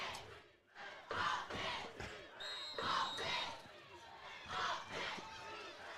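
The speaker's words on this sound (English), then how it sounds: "Okay, both crowds are getting real loud now." Both crowds at a 4A high school football playoff game, Clinton Yellowjackets at Mills U Comets, roaring and yelling loudly in surging waves, dense and sustained from the stands.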